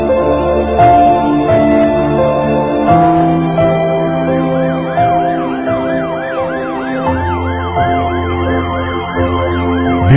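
A loud, close ambulance siren wails with rising and falling tones and then switches to a rapid repeating yelp, heard alone over a low vehicle rumble.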